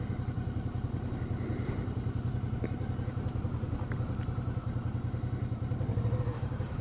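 Riding a Suzuki V-Strom 650 motorcycle, a steady rush of wind noise blends with the engine's even, pulsing low thrum, constant and close throughout, with no talking.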